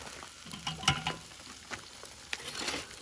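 Chipotle mustard chicken pieces crackle and sizzle on a grill, with a sharp clack and a burst of hissing as a piece is flipped, followed by scattered pops.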